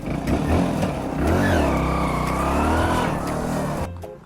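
A vehicle engine runs loud and close, revving steadily with a rising and falling roar just after being started, then cuts off abruptly near the end.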